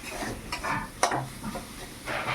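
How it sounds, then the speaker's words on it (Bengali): Potatoes fry in a pan with a loud, bubbling sizzle, while a utensil stirs them in a few sharp scraping bursts close by. "এখানে আমি ভাজা ভাজা করছি"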